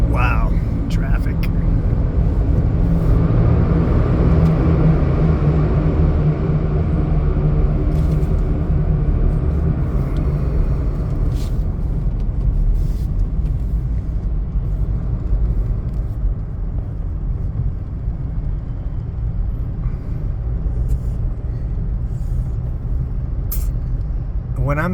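Road traffic on a busy street in Cebu, a steady loud low rumble of engines with a passing bus or truck and a brief air-brake hiss, continuous throughout, with a voice speaking over it.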